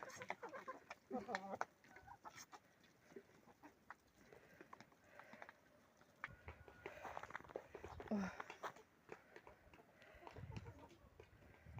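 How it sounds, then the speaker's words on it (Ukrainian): Chickens cluck softly while being fed in a farmyard where snow is still melting, giving scattered, faint, low calls against a quiet background. "Підемо курочок погодуємо."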